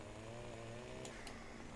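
A chainsaw in the Farming Simulator 2015 video game runs with a steady, faint buzzing drone for a couple of seconds while cutting wood in a forestry scene.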